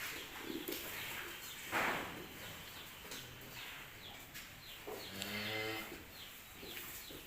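Limousin cattle low in a pen at a supplier's barn. Deep moos, one long and drawn out near the end, sound over a faint wash of outdoor noise and birds.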